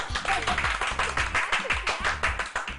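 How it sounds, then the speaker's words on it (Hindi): Clapping at a gathering, rhythmic hand claps in a steady beat, close and distinct, with voices and low music-like tones underneath. "तालियां बजाओ"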